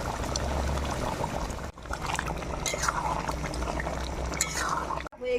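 Ghee poured into mutton cooking in a pot, with saffron-soaked milk and garam masala already added for badshahi mutton. A close liquid pour and bubbling simmer runs under someone talking, with a brief break partway.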